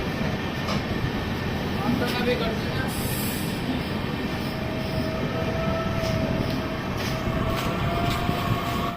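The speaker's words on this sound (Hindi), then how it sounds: "सामने से गुड्स ट्रेन आ रही थी" A goods train rumbling past on the opposite track, heard from inside a passenger train, a continuous loud rolling roar with wheel clatter and a brief high squeal.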